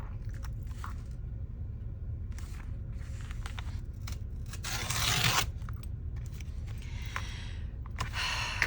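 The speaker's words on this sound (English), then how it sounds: "Oh, that almost didn't want to tear." Paper being torn for a Christmas journal, quiet crinkling and handling noises leading into one louder rip, followed by more light rustling and scraping.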